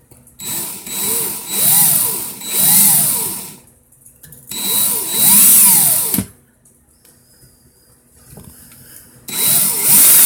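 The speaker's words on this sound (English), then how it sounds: "Of course the drill's dying slow as fuck." A power drill with a weakening battery whines in bursts, its pitch rising and falling as it spins up and slows, with ratcheting clicks and pauses between runs, loud and close.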